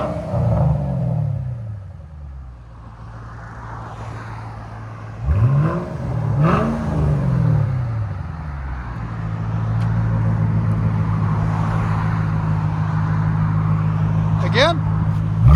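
A supercharged 5.4L V8 in a 2009 Ford Mustang Shelby GT500 with a Black Widow Neighborhater exhaust revs through a few sharp blips, falling back to a deep, loud burbling idle that holds steady and close.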